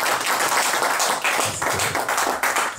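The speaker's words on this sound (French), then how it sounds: "On peut donner une main d'acclamation au Seigneur pour ça" A church congregation gives a round of applause during a sermon, with dense, sustained clapping from many hands that stays loud throughout and dips briefly in a couple of spots.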